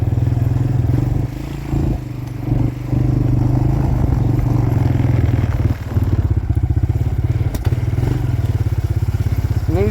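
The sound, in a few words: Suzuki LTZ 250 quad engine riding in woods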